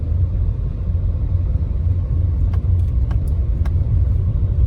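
A car rolls along a gravel road toward a Buddhist temple in Chino Hills, a steady close rumble of engine and tires with a few faint clicks and rattles, no talking.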